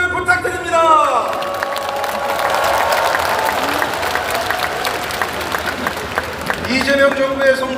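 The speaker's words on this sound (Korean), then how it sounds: "큰 격려의 박수를 부탁드립니다" Crowd applause and cheering for Democratic Party leadership candidates at a party convention, with clapping rising and falling alongside whoops, babble and an amplified voice speaking over the noise, all heard at a moderate distance.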